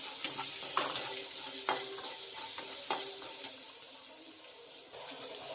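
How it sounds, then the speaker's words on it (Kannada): Chopped onion with garlic and dried red chillies frying in oil in a pan for an okra stir-fry, a steady close sizzle with a spatula scraping and stirring in irregular strokes, no voices. "ಈರುಳ್ಳಿ ಫ್ರೈ ಆಗ್ತಿದೆ"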